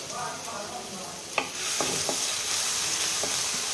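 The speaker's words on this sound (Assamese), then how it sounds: "অকণমান নহৰুখিনি মই ভাজি ল'ম" Crushed garlic frying in hot oil, a continuous bright sizzle with a few stirring scrapes and clicks, close and steady with no talking.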